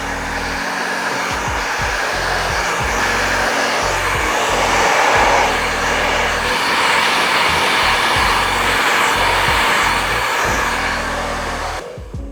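Wahl Barber Dryer and Style hair dryer blowing steadily and loudly at close range, a continuous airy roar with a slightly wavering motor pitch through the whole stretch, cutting off at the very end.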